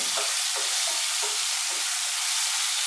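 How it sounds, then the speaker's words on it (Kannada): Tomatoes frying in a pan, a loud, close, continuous sizzle with a few light stirring scrapes early on and no voices. "ಈ ಟೊಮಾಟೊ ಹಣ್ಣೆಲ್ಲ ಒಂದು ಅರ್ಧ ಫ್ರೈ ಆದರೆ ಸಾಕು"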